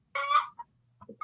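A phone ringtone that imitates a clucking chicken goes off nearby: a loud drawn-out squawk followed by a few short, softer clucks, with no one speaking during it.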